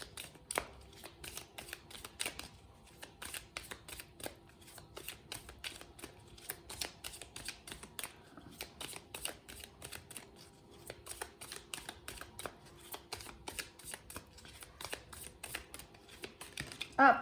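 Tarot cards being shuffled by hand in a quiet room, a steady run of soft, quick riffling taps and slaps that continues alone for many seconds with no talking.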